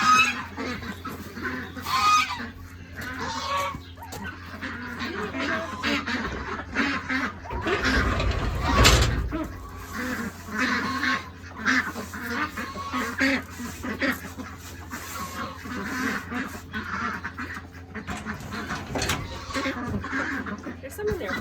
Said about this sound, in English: And ducks are very loud.